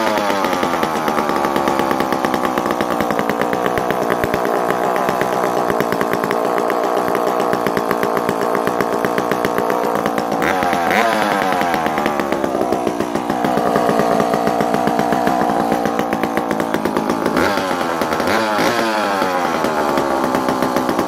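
A vintage Danarm 55 MK3 two-stroke chainsaw runs continuously close by, its loud buzzing engine rising and falling as the throttle is blipped, with no talk over it.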